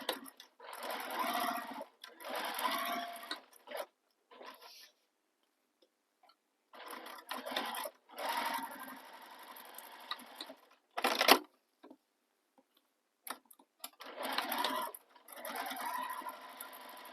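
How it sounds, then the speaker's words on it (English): A sewing machine top stitches along both edges of a crossbody bag in blue thread on blue fabric, running in several steady bursts of a few seconds each with short quiet pauses between them. "I'm going to top stitch both edges using the seam allowance given in the pattern"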